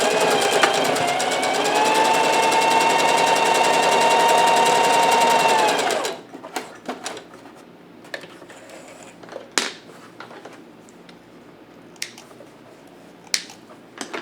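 A sewing machine runs in one steady, whirring burst of about six seconds while stitching a cloth mask. It then stops, and scattered light clicks and handling noises follow, close by with no talk.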